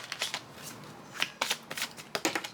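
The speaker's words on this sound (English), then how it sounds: "we're gonna shuffle this deck to see what else we can learn from you" A deck of cards being shuffled, with several quick riffling bursts and soft flutters close by, with no voices in between.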